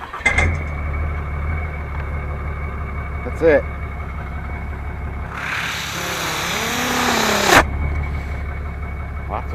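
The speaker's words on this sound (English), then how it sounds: "You can definitely hear the Cummins engine, but I like to hear the exhaust too." A Cummins diesel pickup truck, started remotely, idles steadily at the tailpipe with a low, even rumble; a hissy rush swells midway and then drops back to the idle, and someone speaks briefly over it.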